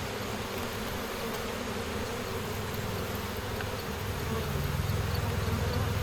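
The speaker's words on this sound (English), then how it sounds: "A lot of bees flying around the entrance right now." Honeybees swarm around a hive entrance, a dense, steady buzzing drone close by that swells slightly toward the end.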